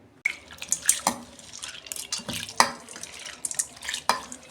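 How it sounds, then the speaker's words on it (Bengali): Mixed lentils get washed by hand in a bowl of water, with repeated splashing, sloshing and dripping in uneven bursts, close and fairly quiet. "ডালটাকে আমি ভালো করে ধুয়ে নেব।"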